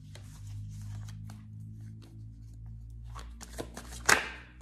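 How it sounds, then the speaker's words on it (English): Tarot oracle cards are shuffled by hand indoors in quiet, rapid riffling bursts that end in a sharper snap of cards, close and fairly soft, with no talk. "Give me one more shuffle"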